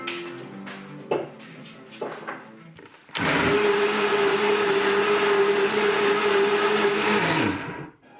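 Kitchen clatter and a few knocks come first, then a countertop blender roars to life making green juice with broccoli, whirring loud and steady for several seconds before winding down.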